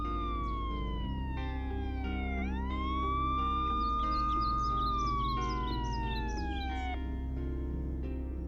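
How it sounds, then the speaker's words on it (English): A siren wails steadily, its pitch sliding down and rising again, heard from some distance over a low constant hum. "I heard the distant sirens"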